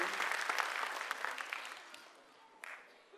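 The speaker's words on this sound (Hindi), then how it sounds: "हमारे छोटे छोटे बच्चों के लिए एक बार ताली तो बजनी ही चाहिए" An audience at a pre-primary school annual function claps enthusiastically for young children, then the applause gradually thins and fades, with a few scattered last claps near the end.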